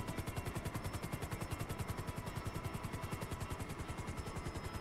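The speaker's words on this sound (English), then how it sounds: "Where the chopper going?" Helicopter in the video game GTA 5, its rotor chopping in a steady fast pulse with a constant whine overhead, moderately quiet and without talk.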